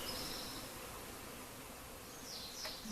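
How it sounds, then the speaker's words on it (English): A swarm of bees hums as a faint, dense buzzing drone, steady throughout and heard from a short distance. "This is a swarm."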